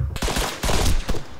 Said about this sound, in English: Why'd you shoot me?